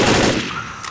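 Loud burst of gunfire in the zombie shooter Left 4 Dead, a rapid cluster of close shots lasting under a second with a dense crackling tail.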